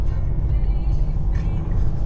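A car engine idles or runs steadily close by, a loud low rumble filling a short stretch with no clear talk over it.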